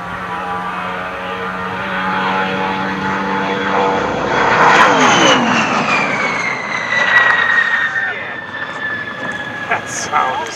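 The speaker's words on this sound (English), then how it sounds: "That sound is awesome. That Ford's in hunt and kill mode, and that Roush 8's engine ain't no joke." A Ford Talladega race car with a Roush engine roars past during a shakedown run at Spaceport America, a loud rising and falling engine sweep that builds toward the middle and fades, with people talking over it.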